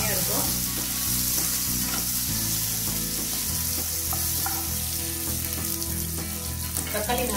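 Tomatoes for a green prawn kurma sauté loudly in a pan, giving a dense, continuous sizzle with occasional stirring clatter up close, and no voices.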